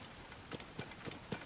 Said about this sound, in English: it just started raining